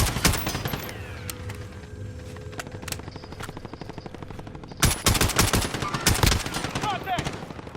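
Rapid bursts of video game gunfire crackle through a firefight inside a house, with dense automatic volleys and sharp single shots, loudest in a heavy cluster near the end, alongside occasional faint voices.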